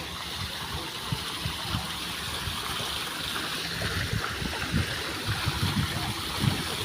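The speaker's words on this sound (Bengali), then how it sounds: "ঝর্ণা আছে।" A fountain flows continuously in a steady rushing stream, moderately loud and close, with low rumbling beneath it.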